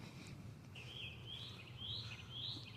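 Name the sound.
birds chirping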